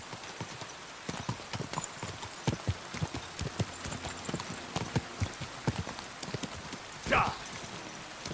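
Horse hooves clip-clop at a steady walking rhythm in the medieval game Kingdom Come Deliverance II, close and distinct, with someone talking over it and a brief whinny-like sound near the end.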